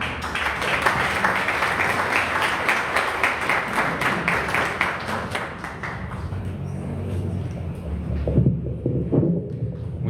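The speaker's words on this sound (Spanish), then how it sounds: "Por favor, un aplauso." A crowd applauds steadily with dense clapping that fades out toward the end, leaving a few low rumbles and a faint voice.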